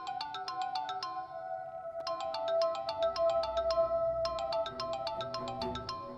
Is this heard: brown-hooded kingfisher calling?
no